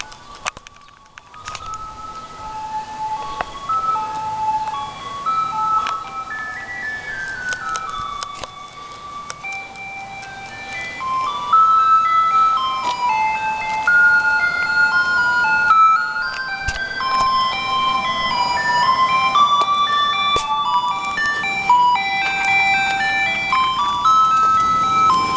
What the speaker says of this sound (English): the ice cream truck is here